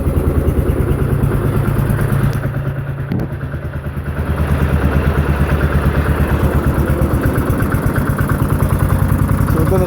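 A Lawnflite 604 tractor mower engine runs in the snow during a cold start, a loud, close, steady chugging idle with a fast, regular pulse and a brief dip in the middle.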